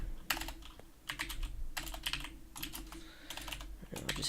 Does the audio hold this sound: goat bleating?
no